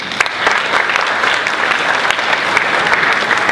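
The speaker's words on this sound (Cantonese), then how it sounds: "大家再次熱烈掌聲歡迎" A school audience at a sharing session claps warmly for a guest, dense continuous applause close and loud throughout the short stretch.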